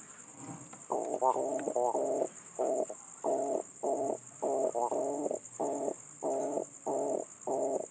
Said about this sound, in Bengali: পায়রিটা ডাকো কিন্তু ওই রকমই কটকট শব্দ